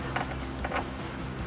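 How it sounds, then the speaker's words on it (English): Ratchet with a 13 mm socket loosening an exhaust bolt under a 2005-2010 Mustang GT, giving a few quick ratcheting clicks in short bursts, close and moderately loud over a steady background hum. "I'm going to take my 13 millimeter on my ratchet."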